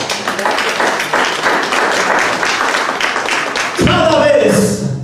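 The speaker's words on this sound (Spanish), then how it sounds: "Den un aplauso al Señor por eso." Church congregation clapping in praise, a steady wash of many hands applauding together with voices mixed in, then shifting into louder cheering and vocal noise near the end.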